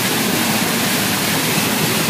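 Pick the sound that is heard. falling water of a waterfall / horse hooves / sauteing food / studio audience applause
falling water of a waterfall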